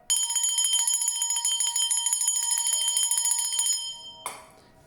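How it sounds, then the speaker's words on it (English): A small hand bell rung steadily with a bright, rapid ringing peal for several seconds, then stopping, followed by a single sharp tap and a fading ring, loud and close with no voices. "scattering any dark energies through the peal of this bell"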